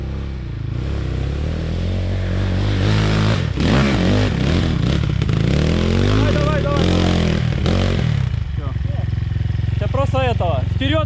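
An air-cooled Motorland 250 motocross bike being ridden, its engine revving and rising and falling loudly, with clatter and a voice talking over it near the end.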